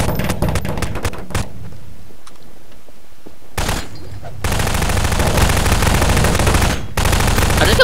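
Rapid automatic gunfire rings out in the video game Prop Hunt, a short burst at the start followed by a quiet gap, then long loud sustained volleys that fill the rest of the clip.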